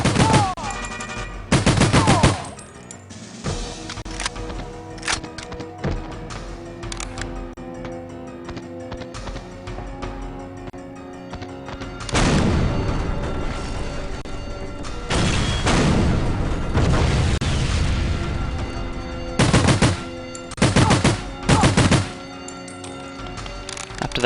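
Gunfire in The World is Not Enough video game: loud bursts of rapid shots and single heavy thuds, clustered at the start, middle and end with quieter gaps between.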